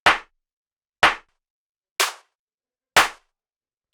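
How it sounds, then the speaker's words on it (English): A layered clap sample for a deep house groove strikes four times at an even one-per-second pace, each hit sharp, bright and dry with a quick decay into silence. "punchy hi-hat, and a good clap"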